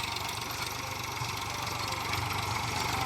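A tractor engine idling steadily nearby, a continuous low, rumbling chug with a dense mechanical hum and no pauses over the short stretch.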